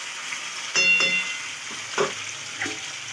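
A spoon mixing spiced potatoes in a pan, giving a few distinct scraping, clinking strokes over a faint background sizzle, each stroke short and close, with no talking.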